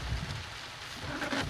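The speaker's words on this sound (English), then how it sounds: "The rain got a bit worse." Heavy rain pouring steadily on a car, a dense close hiss of drops drumming on the surface with low rumbling beneath, swelling slightly toward the end.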